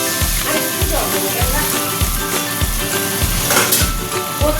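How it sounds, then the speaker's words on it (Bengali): Water is poured into a pan of frying taro (kochu) for a fish curry, and a loud, continuous sizzle and hiss fills the air close up, with low thumps pulsing in a steady rhythm underneath. "এবার দিয়ে দেবো জল।"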